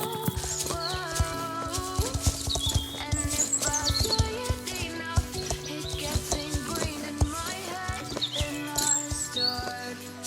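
Horse hooves cantering in the Star Stable video game, a steady fast clip-clop rhythm under continuous game music.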